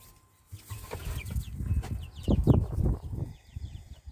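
Homestead chickens and roosters cluck and squawk at close range in short bursts, with scattered chirps and faint shuffling in the background.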